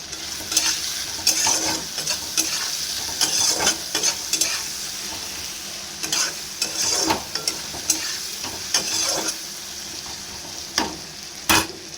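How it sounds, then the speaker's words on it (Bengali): Potatoes frying with turmeric and salt in a pan, with a steady sizzle broken by repeated scraping stir strokes of a spoon, close and fairly loud, with no talk over it. "পাঁচ মিনিট এটাকে ভালো করে ভেজে নেব।"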